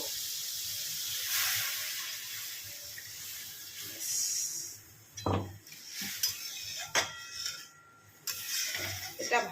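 Water poured into hot, oily curry gravy in a kitchen pan, giving a bright, steady hiss and sizzle, then broken splashes and bubbling as the liquid settles, with faint clinks in the background.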